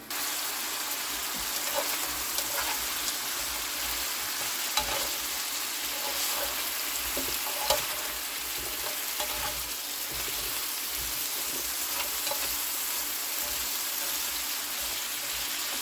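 Steady, dense sizzling of potatoes frying in an electric frying pan, continuous and close, with occasional soft pops and stirring scrapes.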